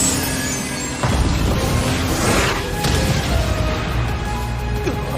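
An anime magic crystal attack smashing into a golem's attack, loud crashing impacts and booming bursts with rushing whooshes, two heavy hits about two seconds apart over a continuous rumbling bed.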